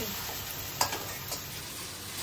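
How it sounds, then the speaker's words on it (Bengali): Chopped onions frying in hot oil in a pan give a steady close sizzle, with a single stirring clink partway through. "পেঁয়াজটা মোটামুটি অনেকটাই ভাজা হয়ে গেছে, তেলও ছেড়েছে"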